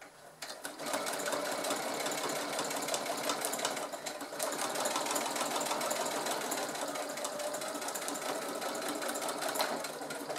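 A sewing machine stitches bag handles in a steady, continuous run of rapid mechanical needle clatter, close and fairly loud, starting after a brief pause and holding on without interruption.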